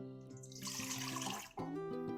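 Warm water poured from a cup into a bowl for rye bread dough, a short splashing rush over a steady background hum.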